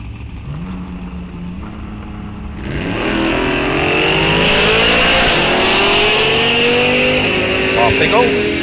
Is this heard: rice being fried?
no